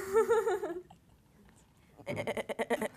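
A voice sounds briefly, then after a pause a person imitates a sheep with a quick, stuttering bleat that pulses rapidly.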